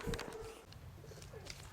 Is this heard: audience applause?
no